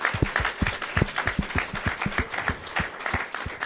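An audience applauds a punk band's musicians in the room, with a steady patter of close claps and scattered louder hits running throughout.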